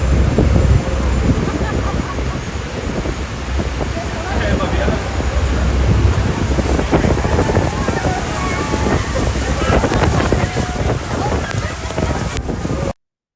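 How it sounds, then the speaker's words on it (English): Roaring rush of Niagara Falls, a dense, steady wash of falling water heavily buffeted by wind on the microphone, loud and continuous for the whole stretch before cutting off abruptly. "So here is my footage of Niagara Falls."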